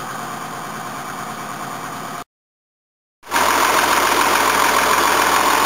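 A Mercedes W108 on carburettors idles steadily as it warms up, giving a close, even engine hum with a brief total dropout, then the idle returns slightly louder.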